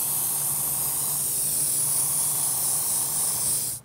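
A can of red spray paint hisses steadily onto a large prop Lego sword and shield that has been masked off with tape, one continuous close spray lasting several seconds and then cutting off abruptly.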